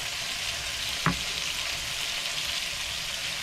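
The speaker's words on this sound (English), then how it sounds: "Next I'm going to add my garlic and ginger. Get that stir fried in a little bit, just so it starts to soften that up." Garlic and ginger stir-frying with carrots and green beans, a steady moderate sizzle throughout with one brief sharp tap near the start, no voices.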